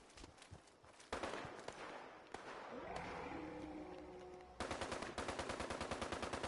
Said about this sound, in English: A lot of shooting.